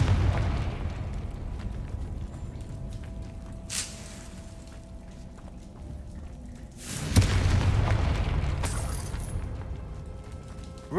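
Confringo fire spell explosions in Hogwarts Legacy, a booming blast with rumbling tail near the middle-end, preceded by a smaller burst, over a low continuous game-ambience rumble, no speech heard.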